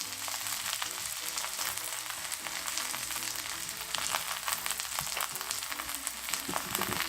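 Cabbage jeon batter frying in a pan with a steady, dense sizzle and crackle, close and continuous with occasional stirring clicks and no talking.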